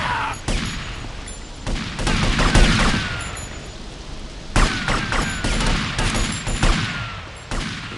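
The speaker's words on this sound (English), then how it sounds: "She's shooting!" Sharp bursts of gunfire in GTA Vice City ring out repeatedly, separated by brief pauses, with a steady patter of in-game rain beneath, all fairly loud and near.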